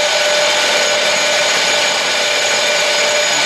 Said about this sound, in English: finalise that curve gently with the skew chisel